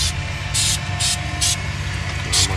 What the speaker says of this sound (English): You're just gonna spray the whole distributor down, James.